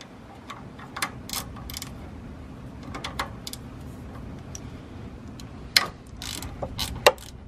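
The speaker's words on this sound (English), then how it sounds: "I just need to grab a 10 mil ratchet" A 10 mm ratchet working on a bolt during a car engine upgrade, sharp clicking bursts of the pawl in short uneven runs, close and moderately loud over a low steady hum.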